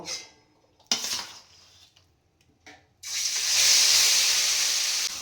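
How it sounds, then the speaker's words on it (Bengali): Marinated chicken dropped into hot oil, a loud sustained hiss and sizzle of frying that rises abruptly and holds steady, following a few quieter kitchen clatters. "এবারে আমি চিকেনটাকে এই তেলের মধ্যে দিয়ে দেব।"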